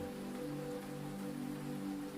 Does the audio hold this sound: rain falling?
yes